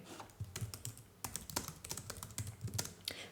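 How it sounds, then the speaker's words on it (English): Close typing on a computer keyboard, with quick irregular bursts of key clicks and short pauses between them, fairly quiet and with no voices. "Let me type this for you."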